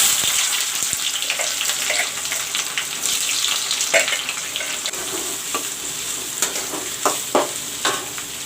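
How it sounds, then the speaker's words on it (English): Chopped onions frying in hot mustard oil, a loud steady sizzle with stirring clicks and scrapes, close up with no talking. "I have cut up some onions also. This I am going to fry in the oil."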